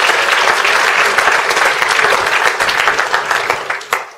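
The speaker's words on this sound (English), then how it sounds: "I think that's worth a round of applause." Loud, dense audience applause at the Lion Rock Institute gala dinner in Hong Kong, a crowd clapping vigorously that gradually thins and fades toward the end.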